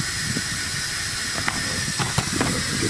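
A Harbor Freight oil extractor sucks used engine oil out of a car's oil pan with a steady, close hissing draw, broken by a few brief gurgling slurps near the end.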